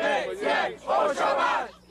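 Protesters in a crowd at a 1996 political rally with the Prime Minister chant and scream in loud rhythmic bursts, several voices shouting together in swelling waves over about two seconds.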